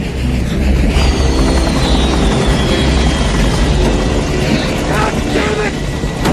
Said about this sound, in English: Attack choppers, we're going after them.